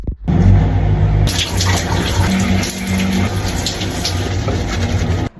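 Water runs steadily from a tap while someone bathes, a loud, continuous rushing splash that holds throughout without talk.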